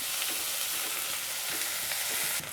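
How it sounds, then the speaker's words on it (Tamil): Sliced onions frying in ghee with cinnamon and cloves for chicken biryani, a steady, close sizzle with faint stirring scrapes throughout and no voices. "நல்லா வெங்காயத்தை கலரி விட்டுருங்க."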